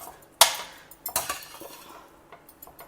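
Spoon stirring spice powder of pepper, fenugreek and sesame into rice in a metal pot, giving a few sharp close clinks and scrapes followed by softer scraping taps.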